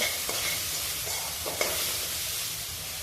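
Onion stirred and sautéed in a dry pan with no oil, a steady soft sizzle broken by a few scraping strokes, close and alone.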